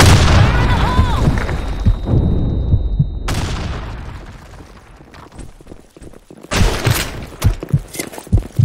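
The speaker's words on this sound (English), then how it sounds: "Grenade. Fire in the hole." A grenade explodes in a Counter-Strike-style shooter on the Office map. Loud, booming blasts with a sharp onset and rumbling decay are followed by a dense, crackling burst of gunfire.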